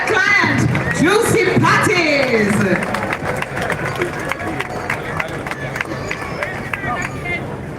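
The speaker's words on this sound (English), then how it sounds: "Keep the round of applause going." A crowd at a ribbon cutting for Juicy Patties at the Morant Bay Urban Center in Jamaica cheers and chatters, then breaks into scattered, sustained clapping under a murmur of voices.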